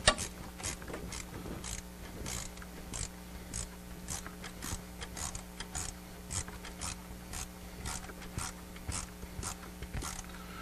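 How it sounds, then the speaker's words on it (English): A ratchet tightens hose clamps on the throttle body of a cold air intake, quick repeated clicking strokes in a steady rhythm, close and moderately quiet, with a faint hum underneath. "we're going to go ahead and begin snugging down our hose clamps on the throttle body"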